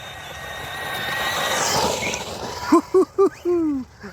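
A Losi Super Lasernut RC car tears past at full throttle, its rising electric whine sweeping in and peaking mid-clip before fading, followed by a few short sharp chirps.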